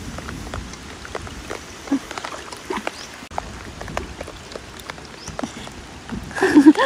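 Rain falls heavily outdoors in summer, a soft continuous patter of drops scattered across a surface with sharper individual taps, growing a little louder and busier at the end.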